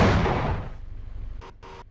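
A tank cannon in Half-Life VR fires with a loud, deep boom that rolls away into a long rumbling decay, followed by two short muffled bursts near the end.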